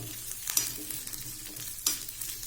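Small onions sizzle steadily in hot oil for an okra tamarind curry, with occasional louder crackles and stirring scrapes close up.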